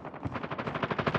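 A rapid automatic burst of gunfire from the mobile shooter Call of Duty Mobile, a dense string of loud, evenly spaced shots lasting just over a second.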